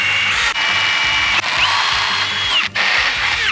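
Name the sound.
power drill with 25/64 bit drilling hole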